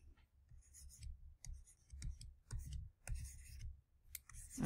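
A pen scratches across paper during a calculus write-up, the pen acting up. It comes as faint, close, irregular strokes and scribbles separated by short pauses.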